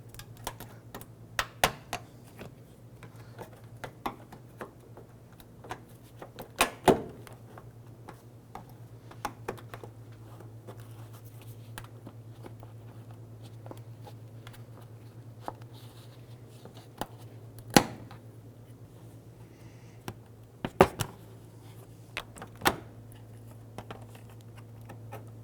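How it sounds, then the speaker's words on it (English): Plastic push pins prised out of a 2004-2009 Dodge Durango bumper with a trim tool, a series of sharp scattered clicks and snaps over a quiet background hum. "Using our trim tool remover, we're going to go ahead and remove these plastic push pins."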